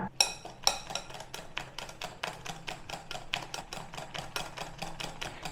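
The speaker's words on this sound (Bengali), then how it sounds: "এটাকে এবারে ভালো করে ফেটতে হবে, এক দিক দিয়ে করবো, ফেটাবো।" A whisk beats banana cake batter in a bowl with a steady, rapid run of sharp clicking strokes. The strokes are close and fairly even in loudness, with no voices.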